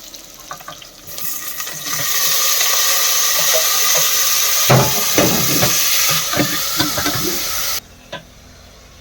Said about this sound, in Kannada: ಈರುಳ್ಳಿ ಬೆಳ್ಳುಳ್ಳಿ ಎಲ್ಲ ರೋಸ್ಟ್ ಆಗಿದೆ ಮತ್ತೆ ಟೊಮೊಟೊ ಹಾಕ್ತಾ ಇದ್ದೀನಿ